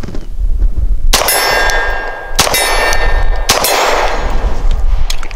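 A Langdon Tactical 92 Elite pistol fires steel-case 115-grain ammunition at an outdoor range, with three loud sharp reports that ring out and decay over ringing metallic target clangs.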